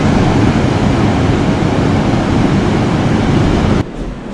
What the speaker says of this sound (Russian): как шумит океан.